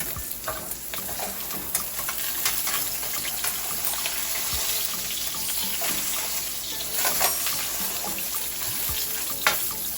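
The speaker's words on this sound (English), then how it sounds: "go ahead and flip this meat over just like so" Ground meat browning in a hot pan gives a steady close sizzle and crackle, with occasional scraping taps as it is turned over; no one speaks.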